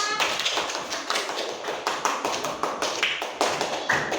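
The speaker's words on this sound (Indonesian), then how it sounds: "Beri aplaus untuk Nadira." Schoolchildren in a classroom clap in applause, producing a rapid, even series of sharp claps close by that keeps a steady rhythm throughout.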